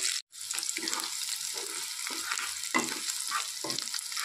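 Chopped onions fry in hot oil in a pan with a steady, close sizzle, broken by soft scraping as they are stirred around.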